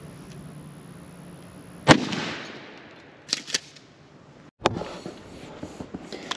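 A shotgun fires outdoors: one loud, sharp blast followed by a decaying echo, then a few fainter, quicker reports and another strong shot, with no talking over it.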